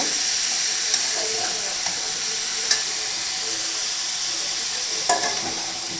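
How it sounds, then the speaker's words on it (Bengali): Bottle gourd and shrimp fry in hot oil, giving a steady broad sizzle throughout with a few faint clinks of stirring, and no voices. "এটা ভাজা ভাজা করে নেবো তেলের ওপরে"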